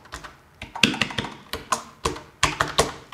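Keys clack on a computer keyboard as a search is typed into a freelance marketplace website, about a dozen crisp close taps in an uneven rhythm, with no voice over them.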